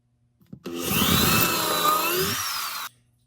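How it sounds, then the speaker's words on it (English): A power drill whirs steadily into wood for about two seconds, drilling a pilot hole, its pitch sliding as the bit bites, then stops abruptly. "First, I will be drilling a pilot hole."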